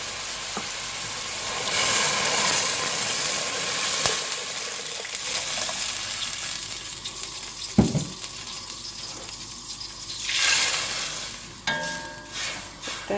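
Boiling water pours and splashes into a hot pot of Persian cabbage ash with noodles, sizzling and hissing, plus occasional clinks and knocks of cookware.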